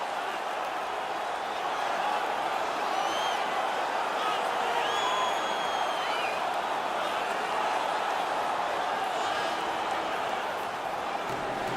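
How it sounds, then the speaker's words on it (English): A home crowd at an NHL 19 hockey game roars steadily, a broad wash of cheering with scattered whistles and whoops, continuous and fairly loud. "The home crowd is ecstatic. They're making all kinds of noise."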